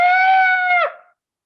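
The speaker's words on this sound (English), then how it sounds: "scream echo down the hallway." A single loud, sustained scream rings out and then cuts off sharply with a short decaying tail, used as a tabletop game sound effect of a scream echoing down a hallway; no one speaks.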